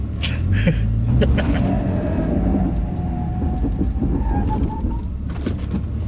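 Steady road and engine rumble from inside a car cruising at about 65 mph during a brake test with a new big brake kit, a continuous loud drone with faint higher tones drifting over it.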